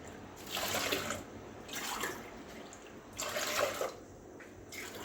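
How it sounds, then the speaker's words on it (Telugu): Water poured into a cooking pot for a masoor dal with amaranth greens, coming in several broad splashy bursts with short pauses between them, close by and with no talking. "రెండున్నర గ్లాసులు వాటర్ పోసుకోవాలి"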